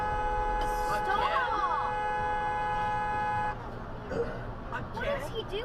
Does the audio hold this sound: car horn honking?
yes